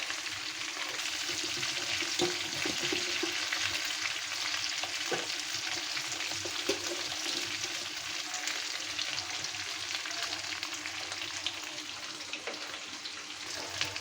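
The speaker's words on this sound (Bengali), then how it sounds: "আমি একদম অল্প তেল দিয়ে মাংসগুলো ভাজিয়ে নিলাম" Chicken meat fries in a small amount of oil in a pan, a dense, continuous sizzle that stays loud and even throughout, with occasional faint stirring clicks and no talking.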